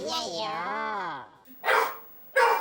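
A dog barks twice in quick succession, each bark short and loud. The barks come right after a drawn-out voice and stand clearly apart from it.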